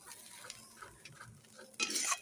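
Mourala fish frying in oil being lifted out of the pan, quiet sizzling with scrapes and small clinks, then a louder burst of hissing near the end, no voices.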